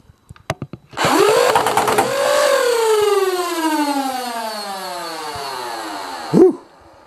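Nerf Elite Infinus blaster motor spinning up to a loud, high whine after a few sharp clicks, holding a long sustained rev with dart firing, then winding down abruptly near the end.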